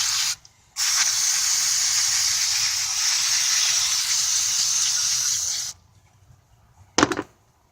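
Electronic cleaner sprayed onto a car's MAF sensor: one long, steady aerosol hiss of about five seconds, cutting off sharply, then a second brief spurt near the end.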